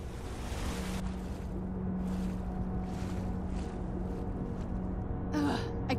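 A broad, constant roar of rushing water spills over a waterfall in the Forgotten Vale in Skyrim, heard close and unbroken, with a short gasp-like sound near the end.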